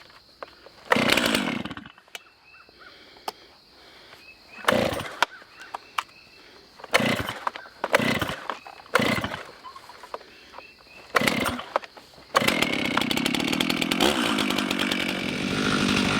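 A Stihl 391 chainsaw, choked and fuelled with gas and oil, takes several sharp pull-start bursts with quiet gaps between them, then catches and runs loud and steady close by.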